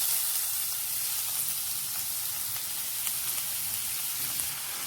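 Small chopped onions hit hot coconut oil for a Kerala-style egg curry, giving a loud, dense, continuous sizzle and crackle that holds steady from start to finish.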